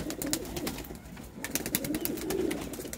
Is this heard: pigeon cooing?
yes